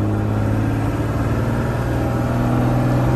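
A truck engine pulls hard in second gear, a loud steady mid-pitched drone with a strong harmonic hum that holds evenly throughout from inside the cab.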